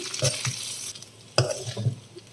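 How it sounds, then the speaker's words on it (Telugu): Okra and onion curry fries on high heat as spice powder is stirred in, a steady sizzle punctuated by several scraping strokes and soft knocks of a spoon against the pan. "ఇప్పుడు పౌడర్ వేసేసుకుందాం మొత్తం కలిసేలాగా కలుపుకుందాం"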